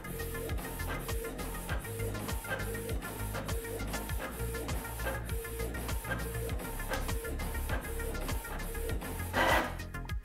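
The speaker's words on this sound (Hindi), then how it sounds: "Print job has been sent to the printer. Okay, हमारा प्रिंट यहाँ पे निकल के आ चुका है।" Printer feeding out a page sent from a smartphone, with steady rhythmic mechanical clicking and whirring repeating throughout at moderate loudness, plus a brief louder rattle near the end, without voices.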